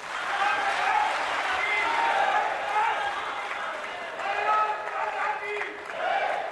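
Loud applause from the audience at the closing session of a national conclave, right after a government minister's address; broad, sustained clapping runs the whole stretch with crowd voices mixed in.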